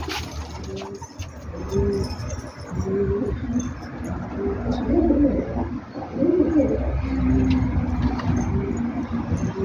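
Pigeons coo repeatedly in soft, rounded calls over a steady outdoor background hum, close by and continuing throughout.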